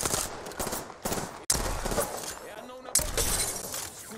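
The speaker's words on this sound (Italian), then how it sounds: "Qualcuno mi sta sparando." Rapid gunfire bursts in the Apex Legends battle royale game, loud and close with sharp shattering impacts, broken by brief gaps and mixed with other game effects while a voice talks over the action.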